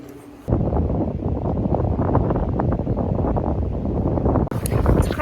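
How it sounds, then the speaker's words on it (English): Strong gusts buffet the microphone while hiking in Scotland, a loud, rumbling roar that dominates most of the stretch, with brief quieter moments at the start and end. "It's quite windy, so I'm not sure if you can hear me."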